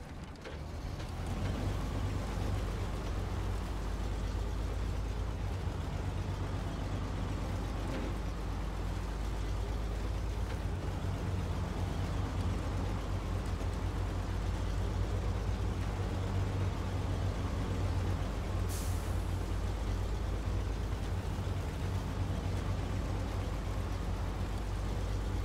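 A heavy truck engine drones steadily in the snowy off-road driving game SnowRunner, set in Michigan, as a loud continuous low rumble with slight shifts in load and no talking.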